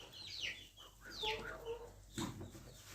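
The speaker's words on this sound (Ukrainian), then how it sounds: "Це також трохи агресивна качка." Harsh, nasal duck calls sound close by in a few short bursts, with quiet outdoor noise between them.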